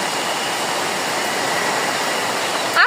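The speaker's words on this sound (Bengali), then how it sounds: "হঠাৎ আবার বৃষ্টি" Rain pours down steadily at a waterlogged home, a dense, even hiss of falling water with no pauses throughout.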